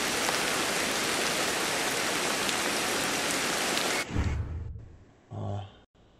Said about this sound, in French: Surtout que là il y a de la pluie et tout, c'est pas cool.